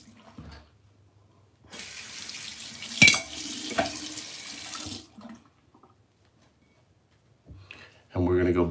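Near-hot water runs from a tap onto a King C. Gillette double-edged razor in a sink, a steady splashing stream with a sharp clink midway, stopping before a brief second burst; someone talks at the end.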